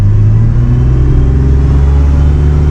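A BMW E36 drift car at a drift event holds a loud, close, steady engine drone with a deep rumble, kept at constant revs for a few seconds without any speech.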